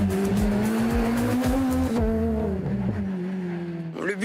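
Rally car at the Rallye Antibes Côte d'Azur, its engine revving loud and close with harmonic pitch sweeps as it accelerates, then tires squealing under braking near the end.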